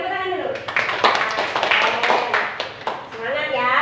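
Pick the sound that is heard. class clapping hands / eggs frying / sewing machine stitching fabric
class clapping hands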